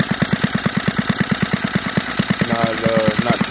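A Briggs & Stratton WMB kick-start washing machine engine idles slowly and steadily, its low, even firing pulses thumping in a regular rhythm close up, with a brief higher whine late on.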